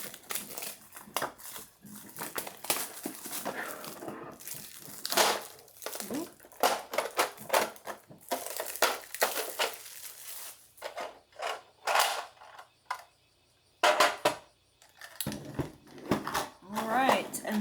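Art marker packaging being cut open and unpacked, with crisp crinkling and rustling of plastic and cardboard in bursts, close and moderately loud, alongside a person talking.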